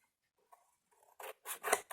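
Scissors snip repeatedly during a paper-craft tutorial, a few soft cuts giving way to three loud, close, crisp snips toward the end, with no talking.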